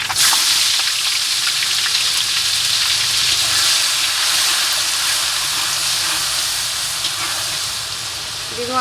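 Onion and chili frying in hot oil give a steady, loud hiss and sizzle close by throughout, easing slightly toward the end.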